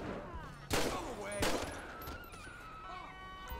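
Gunshots in the video game GTA 5 during a store shooting, two sharp loud reports about a second apart followed by ringing game effects and a low voice underneath.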